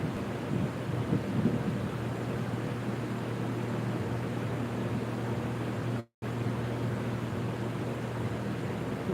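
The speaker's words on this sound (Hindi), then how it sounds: "बहुत बारिश होती है यहाँ।" Heavy rain pours down steadily during a thunderstorm, a dense continuous hiss with low rumbling thunder beneath it; a brief dropout interrupts the sound partway through.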